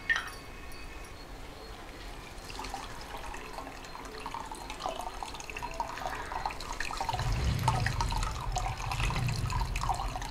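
Water poured over freshly made chenna while preparing rasgulla, a continuous splashing and trickling flow near the mic that grows fuller and heavier toward the end, with no voices.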